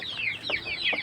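Texas jumbo chickens cluck nearby in a few short, quick calls, close and clear with no talking.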